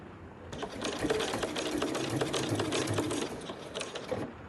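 A sewing machine stitches along the fold of a backpack's front flap in one steady, close run of rapid mechanical stitching lasting a few seconds.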